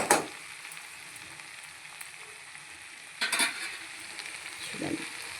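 Okra (bhindi) fries quietly in a pan, a faint soft sizzle broken by a few brief louder scrapes and stirring clatters.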